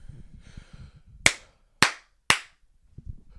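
Three sharp hand claps ring out close and loud at steady intervals to mark the start of a podcast recording, preceded by faint low murmuring.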